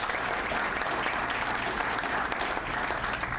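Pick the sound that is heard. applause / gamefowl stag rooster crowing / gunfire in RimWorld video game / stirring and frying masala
applause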